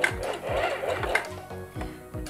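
Sewing machine back stitching along a hem in stretch fabric, a short run of rapid mechanical stitching that stops, pauses and restarts, heard up close without speech.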